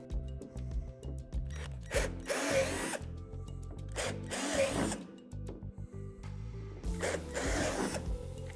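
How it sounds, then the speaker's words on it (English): A power drill with a 3/8 bit whirs and grinds in repeated bursts as it bores through a plastic playset slide, with mechanical rattling between passes and no talking. "drill them out with a 3/8 drill bit"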